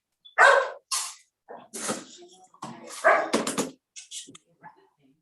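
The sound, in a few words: dogs barking at an animal shelter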